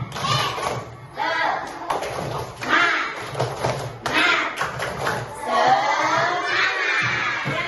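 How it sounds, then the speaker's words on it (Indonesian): Pupils in a primary school religious-education class perform a rhythmic clap-and-shout chant together, loud bursts of clapping and children's voices coming in short repeated waves. "Coba tepuk semangat."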